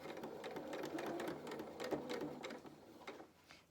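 A domestic sewing machine stitches in reverse at the start of a seam, producing a soft, steady rapid whirring chatter of the needle mechanism that fades slightly near the end.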